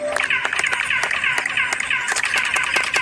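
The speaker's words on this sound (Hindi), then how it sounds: "अगर इसके सामने कोई ताली बजाए, तो आपको वापस एक लेजर की तरह आवाज आएगी" A hand clap in front of the Kukulcan pyramid, echoing back as a chirping, laser-like tone, heard as a string of sharp claps with bright ringing returns, fairly loud and close, with no talking.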